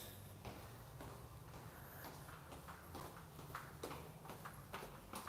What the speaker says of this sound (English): Sounds like a horse, guys, eh?